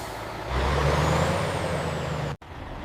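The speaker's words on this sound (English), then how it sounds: "Insulated tanker trucks transport fresh milk safely to the processing factory." An insulated milk tanker truck pulls in at a dairy processing factory: a steady, close diesel rumble with an airy hiss from the air brakes, then a brief cut near the end.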